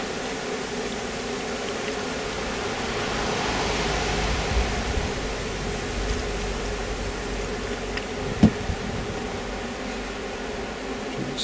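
A steady, diffuse buzzing hum of many honey bees at a hive, even and continuous, with a single faint knock partway through.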